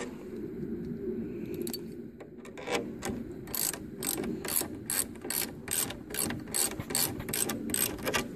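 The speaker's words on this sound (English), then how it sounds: "tighten your clamp down" A ratcheting clamp is cranked tight on an oar sleeve, giving a series of sharp, evenly spaced metallic clicks that start slowly and then speed into a rapid, close rhythm.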